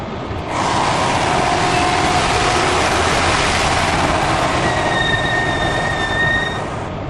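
Window squeaking as a Tesla Model X window opens and closes in the rain: a steady, loud wash of noise with a thin, drawn-out squeal rising above it partway through, continuous and close, no talking.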